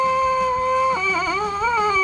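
Lips buzz into a trumpet mouthpiece, making a sustained, close, reedy tone that wavers and bends in pitch partway through over a quiet musical background.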